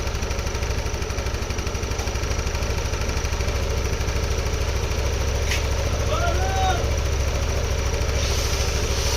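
A Yamaha Nmax 155 v2 non-Y-connect scooter with a throttle-body problem idles during idle speed control calibration, its engine a close, steady low thrum with a fast, even pulse that runs unbroken throughout.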